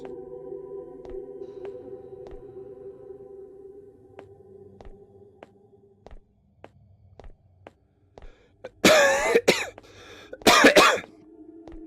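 Two loud, close coughs burst out near the end of a quiet horror game scene in Araya, following sparse ticking footsteps and a low ambient hum.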